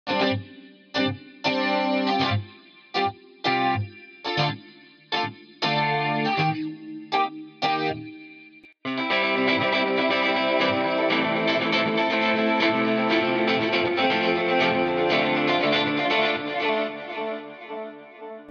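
Electric guitar VST plugin preset plays a rhythmic pattern of short, punchy chorused and distorted chord stabs, then shifts into a denser, sustained effects-laden passage, loud and steady with no talk.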